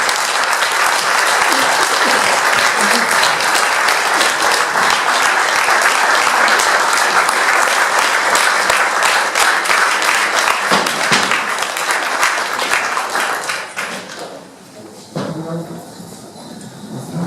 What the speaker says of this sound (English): please join me in a round of applause for a Paul Harris Fellow who continues to put service above self